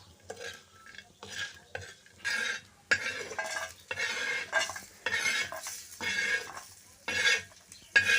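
Drumstick pods with turmeric are stir-fried in a pan, giving repeated close scrapes and clinks of a spoon against metal over a soft sizzle in an uneven rhythm, with no talking.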